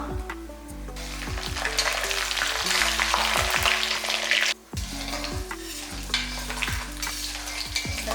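Chana dal, urad dal and cumin fry in hot oil in a pan with a loud, continuous sizzle, broken by scraping stir strokes and a brief dip in the crackle midway.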